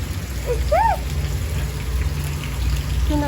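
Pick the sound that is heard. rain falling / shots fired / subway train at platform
rain falling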